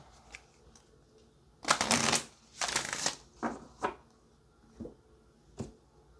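Playing cards shuffled by hand in a quiet room: several separate riffles and snaps, two longer bursts followed by shorter flicks, close and crisp with no talking.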